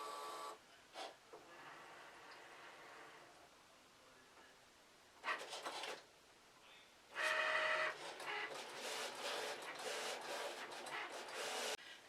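A vinyl sign-cutting plotter works through letters for a welcome sign, giving short whirring and scraping bursts that turn into a longer run of busy mechanical cutting, with quiet gaps between passes and no one speaking.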